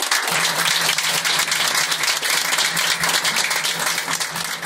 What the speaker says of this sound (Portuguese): uma salva de palmas a todos